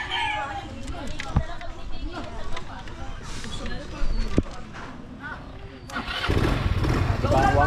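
A repaired motorcycle engine starts on the first click near the end, jumping into a loud, steady running drone after a stretch of outdoor chatter and clicking sounds.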